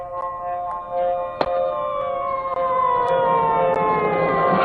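A police siren wails steadily with rising and falling tones, loud and continuous, a sharp knock sounding once partway through.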